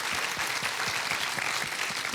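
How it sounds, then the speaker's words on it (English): Applause at a swimming conference, a sustained round of clapping from the audience filling the room, steady and dense throughout with no talk over it. "I think of a round of applause."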